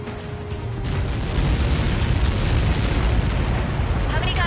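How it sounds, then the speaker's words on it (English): Explosion in the video game Ace Combat 7, a loud, sustained rumbling blast that swells and holds as dense roaring noise with a steady low boom underneath. "How many got caught in that explosion?"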